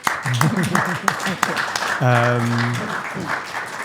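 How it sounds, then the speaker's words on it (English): An audience applauds a guest speaker at a live event at Notman House, clapping filling the room while voices and a brief sustained vocal sound break through partway. "So maybe a round of applause for Sophie for accepting."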